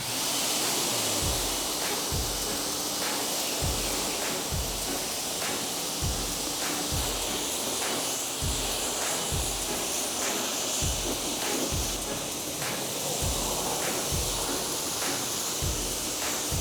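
Water sprays steadily over a car during the final rinse of a wash, a continuous loud hissing rush with a faint regular pulsing underneath.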